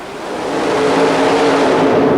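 Jeff Acker's Insanity Roadster, a 2,000 hp Chevrolet-powered super modified mud racing car, launching at a mud race in Oklahoma City, a loud, rising roar of revving engine that swells and holds close and harsh.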